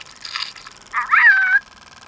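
A Spin Master Bitzee virtual pet dog gives a short synthetic electronic bark: a buzzy chirp followed by a higher whining tone, close and loud, alone in a quiet room.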